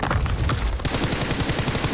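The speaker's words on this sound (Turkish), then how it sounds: "Attım bakalım. Araba da patladı." A car explodes in PUBG Mobile: a loud burst of rapid gunfire-like crackling and booms, dense and continuous, like an explosion amid a firefight.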